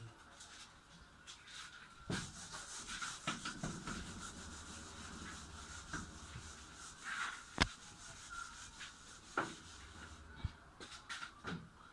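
Writing rubbed out on a board during a lesson, a steady scrubbing and rubbing with occasional knocks and bumps, fairly faint, with a person speaking intermittently.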